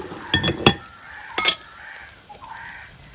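Crushed garlic is stirred in a cooking pan, with a few sharp metallic clinks and scrapes of a spoon against the pan over a quiet background, near and without speech.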